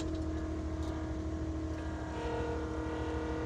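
An Avant compact loader's engine runs steadily at close range during digging practice on a construction site, a constant, throbbing diesel drone with no break and no voices.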